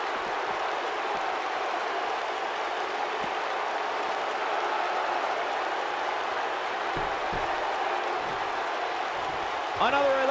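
Steady, dense crowd roar filling a virtual wrestling arena during a SmackDown match in WWE 2K19, a continuous broadband wash of cheering with a brief sharper swell near the end.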